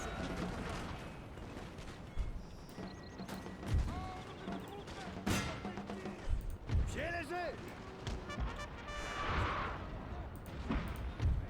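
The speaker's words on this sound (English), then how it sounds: "Just stop firing artillery." Artillery firing in the Napoleonic battle game Total War: Napoleon: repeated booming shots and sharp cracks spread across the clip, mixed with battle noise under a steady bed of sound, with voices heard throughout.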